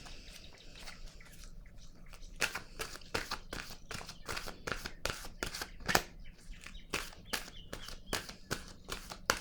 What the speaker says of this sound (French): Je vais piger une carte maintenant